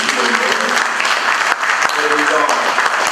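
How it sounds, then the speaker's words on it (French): Sustained applause from an audience at an official ceremony honouring President Félix-Antoine Tshisekedi, a dense, steady wash of clapping that continues throughout with only a brief dip midway, voices faint beneath it. "par le biais de vos applaudissements soutenus"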